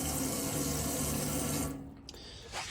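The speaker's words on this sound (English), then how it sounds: "Yeah, there you go, warm water." Warm water runs steadily from a tap in a Burstner Aviano motorhome, a close, full rushing stream that cuts off after about two seconds, followed by a brief faint drip or clunk.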